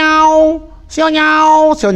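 A cat meows twice, close and loud: a long tonal call, a short pause, then a second drawn-out meow that ends in a brief rising cry.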